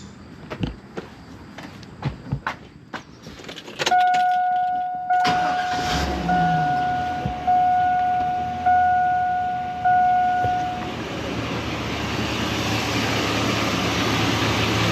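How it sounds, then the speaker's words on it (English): A truck is started during a charging system test: a few clicks and clunks, then the starter cranks and the engine catches and settles into a steady idle, with a chime sounding briefly early on. "So we're going to start this truck and make sure that it's charging."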